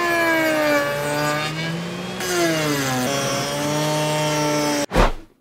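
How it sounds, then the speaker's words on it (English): A router rounding over the edge of sassafras wood boards for a bench, a loud, close, high whine that dips in pitch as it bites, runs several seconds, then cuts off with a sharp thump at the end. "next step is going to be putting a little round on that sassafras, giving it a little bit of a nice, not so edgy look"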